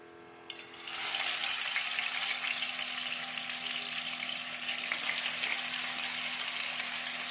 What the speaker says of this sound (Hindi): तो अभी हम फ़िश फ्राई करने लगे हैं।